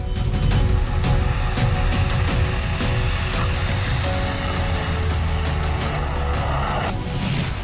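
Fighter jets pass over the Purvanchal Expressway with a loud, continuous roar that stays strong throughout and swells slightly at the end, with no talking.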